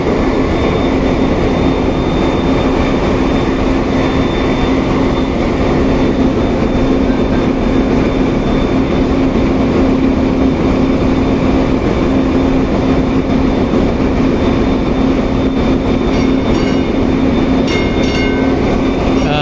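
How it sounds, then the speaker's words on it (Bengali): Steady, loud mechanical drone with a constant low hum and engine rumble, continuous throughout with no pauses, inside a ship's engine room during a river trial. "আমরা ইঞ্জিন রুমের শব্দ কিন্তু আমরা শুনলাম"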